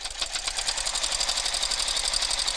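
A sewing machine runs steadily and close up while top stitching folded fabric, its rapid even needle chatter continuing without pause.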